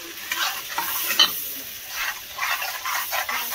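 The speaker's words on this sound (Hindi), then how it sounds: "तो इसको हम चलाते रहेंगे इस तरीके से, वरना कली में चिपक जाएंगे।" Cashew, garlic, ginger and tomato paste frying in a pan for paneer butter masala, with steady sizzling and soft scraping stirs of a spoon throughout, close and moderately loud.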